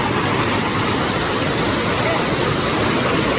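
A forceful stream of cold, clear water rushes steadily, a loud, unbroken roar close by with no voices.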